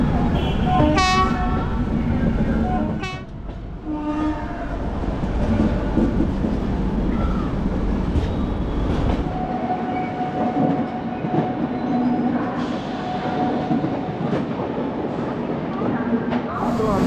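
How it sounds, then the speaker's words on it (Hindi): Humsafar Express train pulling into Vijayawada station, a loud rolling rumble with a horn blast early on and steady wheel noise beneath faint voices. "सो अभी हम लोग पहुँचने वाले हैं विजयवाड़ा स्टेशन।"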